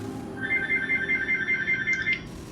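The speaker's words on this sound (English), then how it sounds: "And I'm getting a phone call." An incoming call rings on a phone in a quiet room: a bright, repeating electronic ring pulses steadily about ten times, then stops abruptly.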